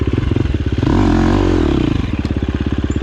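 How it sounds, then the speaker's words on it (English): A 2021 Husqvarna FX350 dirt bike engine, close and loud, pulsing in a fast even rhythm, swelling into a brief rev midway before settling back to a throbbing idle-like beat. "Out riding the new dirt bike."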